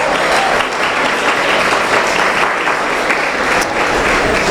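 Steady, dense applause from a large audience at an awards gala, loud and continuous throughout with no break.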